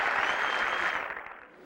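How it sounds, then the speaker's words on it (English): Gallery applause at the 1982 U.S. Open final round at Pebble Beach for defending champion David Graham, a dense wash of outdoor clapping that holds steady and then thins out toward the end. "Applause for David Graham as we prepare for one more break"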